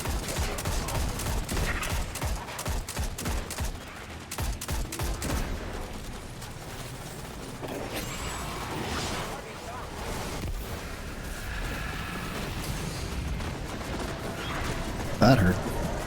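Turret gunfire in Destiny 2 rattles in steady rapid bursts, loudest at the start and then continuing as a busy, moderate combat din while a player talks over it.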